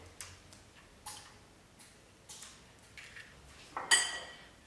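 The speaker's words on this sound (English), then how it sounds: "And then you beat your egg and butter together" An egg and melted butter are beaten together in a cup, giving a series of soft, evenly spaced ticking taps of a utensil against the cup, with a louder clink near the end.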